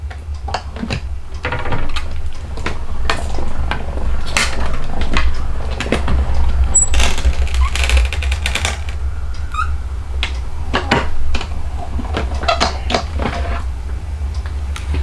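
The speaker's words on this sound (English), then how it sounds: "So this is ready to go through our die cut machine." A die cut machine runs stamped cardstock through, giving a steady low rumble under a string of sharp, irregular clicks and ratchets, close and clear with no talk.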